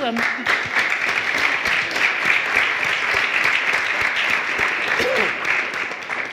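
Audience at a town hall forum in Connecticut's Old State House applauding military veterans, a dense burst of clapping from many hands that holds steady for several seconds before tapering slightly at the end.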